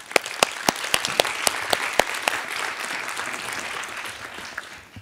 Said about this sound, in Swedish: Så en applåd för Kristina.